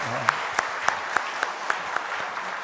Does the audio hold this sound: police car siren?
no